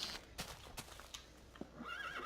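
A Minecraft Technic Pack horse whinnies with a high wavering neigh over a few scattered clip-clop hoof steps, all quiet and distant, with no voices.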